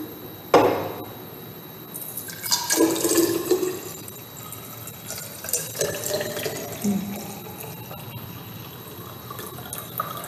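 Tap water pours into a 250 ml measuring cylinder during a dissolved oxygen test in a lab, a splashing, filling gush with uneven surges that comes and goes across the clip, with no speech.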